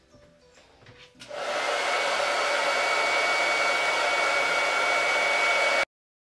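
A hair dryer blows on Dixie Belle chalk paint, clicking on after a second of soft handling noise and then running as a steady loud whoosh for several seconds before cutting off abruptly.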